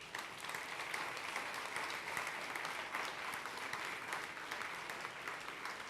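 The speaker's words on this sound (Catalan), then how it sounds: "Un aplaudiment per tots ells." An audience at the Premis Talent 2017 awards gala applauds, steady dense clapping from many hands, fairly faint and even throughout, with no one speaking.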